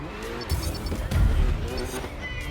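An open-wheel race car in the racing game GRID Legends drifts, its engine droning while tires squeal in short bursts, with a couple of heavier thuds along the way.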